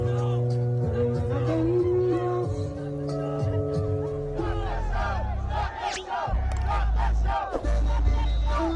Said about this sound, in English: All these crowds started chanting, stop the show, stop the show, stop the show.